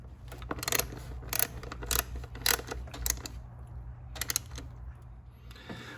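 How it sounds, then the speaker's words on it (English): Bolts go into the multiair actuator of a Fiat 500 Abarth, making sharp, close metallic clicks and ratcheting taps in irregular clusters over a low steady hum. "and then we're going to insert the bolts."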